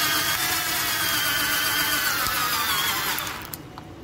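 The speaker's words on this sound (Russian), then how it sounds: "Сейчас я переставлю головочку и попробуем с вами закрутить глухарь" A cheap cordless screwdriver from Leroy Merlin drives a lag screw into a wooden board through a socket. The motor whines in a strained, steady drone for about three seconds, then cuts off, leaving faint clicks.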